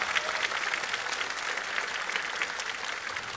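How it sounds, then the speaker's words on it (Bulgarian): A folk festival audience applauds at an author-song competition: a dense, steady wash of many hands clapping, fairly distant and even in level, with no pauses for the whole stretch. "Аплодисменти"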